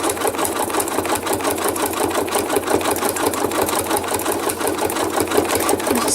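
A sewing machine stitches thread art with titanium needles, its rapid steady mechanical clatter running continuously and close-up at an even rhythm, with no talking.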